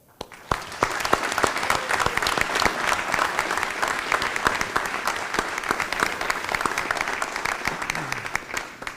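Applause at a school board meeting, steady, sharp clapping from many people nearby lasting several seconds, fading in at the start.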